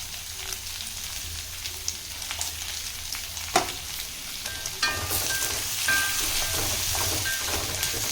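Bitter gourd masala kuzhambu base frying in a pan, vegetable pieces sprinkled with salt giving a steady, close crackling sizzle with a sharp scrape midway and brighter spitting toward the end.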